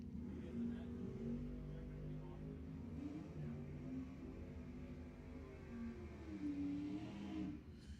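Drag racing cars, one of them a Pontiac Firebird, roar down the strip at Lebanon Valley Dragway, with a loud sustained engine drone whose pitch rises and falls as they accelerate, heard from the track side.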